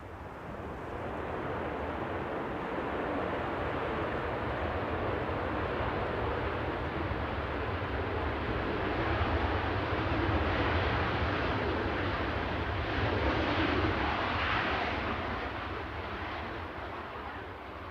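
A Ryanair airliner from Milan, just landed at Manchester Airport, gives a steady broadband engine roar that rises slightly midway and holds, moderately distant and without voices.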